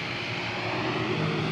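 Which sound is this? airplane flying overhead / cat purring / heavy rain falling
airplane flying overhead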